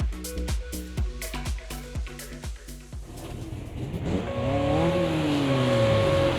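Fiat Uno race car with a 1.6 litre engine in the Automobilista 2 racing sim revs hard through a rapid run of upshifts, then settles into a loud, continuous engine drone with rising and falling pitch.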